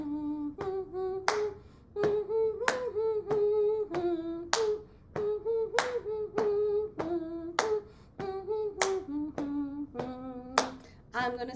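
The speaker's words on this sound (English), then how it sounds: "Just keep this pattern going. Pat, clap, pat, pat, clap." Hands keep up a steady five-beat pat-and-clap pattern, crisp claps and softer pats repeating evenly throughout, while a voice sings a Diwali song over the beat close by.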